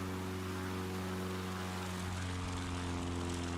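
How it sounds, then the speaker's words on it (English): Propeller aircraft on its takeoff roll in Microsoft Flight Simulator, a loud steady engine drone with strong harmonic tones, pitch shifting slightly near the end, with no voices. "It looked like a long takeoff for Cedric P."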